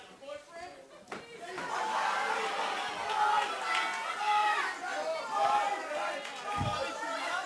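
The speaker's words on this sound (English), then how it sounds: "Lots of reaction from the crowd to these two wrestlers." A wrestling crowd at a live event reacts to two wrestlers with a steady roar of chatter and shouts that swells after the first second and holds loud and dense throughout, with a brief thump near the end.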